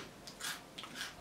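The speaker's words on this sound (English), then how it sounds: "The crunch is crazy." Crunchy onion ring snacks get bitten and chewed right up close, giving two crisp crunching bursts against a quiet background.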